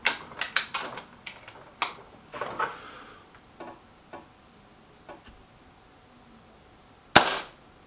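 Kral Puncher K air rifle firing at five small targets 23 metres away, a rapid run of sharp cracks and ticks early on, then sparse clicks and one loud final snap.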